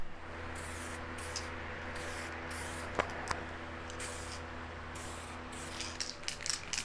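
Spray can painting motorcycle fairings in a garage, repeated hissing bursts of varying length over a low steady hum, with a couple of small clicks midway.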